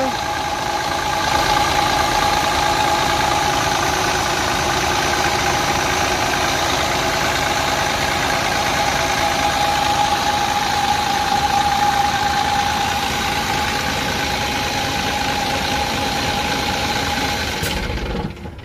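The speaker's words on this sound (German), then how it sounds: "So, hört euch den Motor an, Leute." A Lions City city bus's large diesel engine idles steadily for the whole stretch, a dense rumbling drone with faint knocking and vibration close by.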